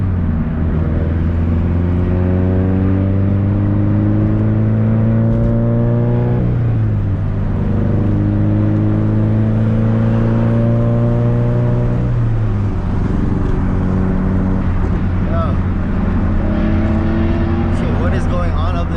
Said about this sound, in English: Surrounded by too many cars.